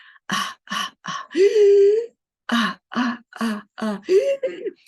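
A voice imitates a whooping cough fit: a run of short, sharp bursts followed by a long, drawn-in whooping breath, then another series of quick coughs.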